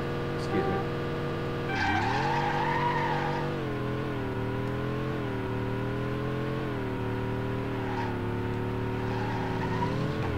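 Test Drive Overdrive race car on a circuit track, engine droning steadily with pitch rising and falling through gear changes, tires squealing and skidding through corners, loud and continuous.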